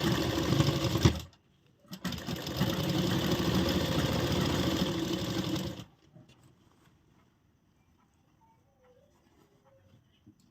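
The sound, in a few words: sewing machine stitching the side seam of a frock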